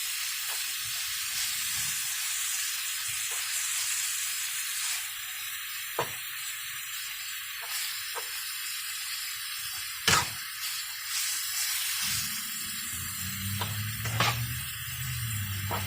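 Ground meat sizzles steadily in a pan for lasagna, with scraping stir strokes and occasional sharp clinks of a utensil against the pan, close and continuous with no talking.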